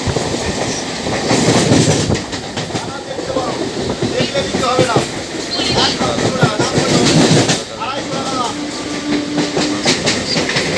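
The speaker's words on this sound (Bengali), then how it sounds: "দুটো ট্রেন পাশাপাশি যাচ্ছে।" Two Indian local trains, a Panskura local and a Medinipur local, run side by side, giving a loud, continuous rumble with rhythmic clickety-clack of wheels over rail joints that swells and eases as the carriages pass.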